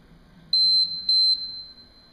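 Two short, high electronic beeps from a workout interval timer sound about half a second apart over a quiet background.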